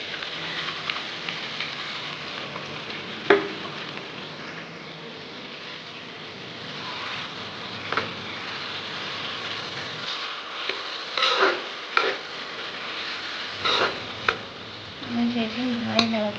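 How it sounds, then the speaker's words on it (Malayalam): Onion, ginger, crushed garlic, green chilli and curry leaves stirred in a pan for chicken roast, a steady close sizzle with scattered scrapes and clacks of the spoon, no talking. "അതിനുശേഷം നന്നായി ഇളക്കി കൊടുക്കുക."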